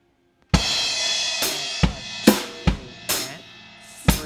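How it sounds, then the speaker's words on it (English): A drum loop with a syncopated bass drum pattern, sharp kick and cymbal hits landing at uneven, off-beat intervals over a sustained wash, loud and alone without voices. "Loop number 3 to the chorus has some syncopated bass drum parts in it."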